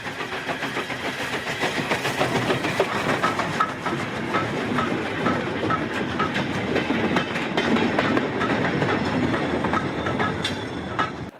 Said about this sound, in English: This goods train has just left Blenavon High Level Station